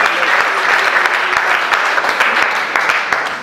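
A church congregation claps together in loud, dense, sustained applause that fills the room evenly from start to finish.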